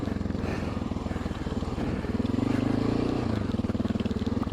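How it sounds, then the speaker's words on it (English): A heavy Honda XR650L motorcycle idles and turns around, its single-cylinder engine thumping in a steady, close, low-pitched pulse that swells slightly as the bike is maneuvered. "You have to get good at turning around a heavy bike,"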